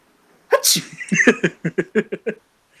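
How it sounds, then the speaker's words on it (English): One person sneezes, a sharp burst followed by a string of quick, breathy laughing pulses, close and loud against a silent background. "And then some of the sun rays catch my face, and then I sneeze."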